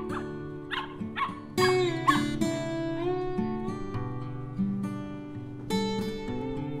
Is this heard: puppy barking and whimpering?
yes